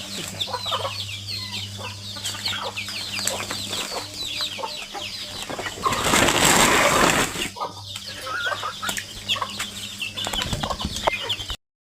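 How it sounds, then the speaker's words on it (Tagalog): Chickens cluck repeatedly nearby, with a brief louder burst of noise partway through and a steady low hum underneath. "Ito na lang natira ng aking maang mga manok."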